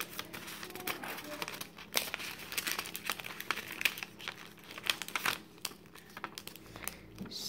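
Paper is folded into an origami bookmark, with quiet, intermittent crinkles and sharp creasing rustles close by.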